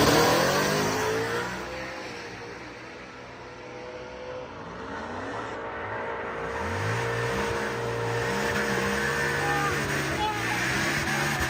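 A supercharged S550 Mustang race car drives on a track, its engine droning and revving steadily at a moderate distance for the whole stretch, with shifting pitch as it pulls past.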